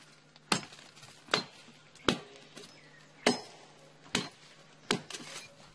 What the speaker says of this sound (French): Il le fend à l'aide d'une machette.